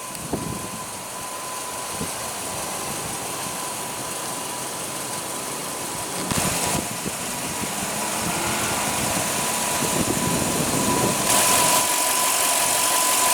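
A 2001 Toyota Sequoia's 4.7-litre V8 runs at a steady, close idle, with a smooth, even hum that swells slightly toward the end and has occasional faint clicks.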